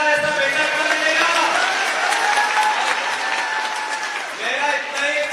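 Crowd clapping fills a Congress public meeting in Tikamgarh, Madhya Pradesh, loud and sustained, while a voice carries over the applause throughout.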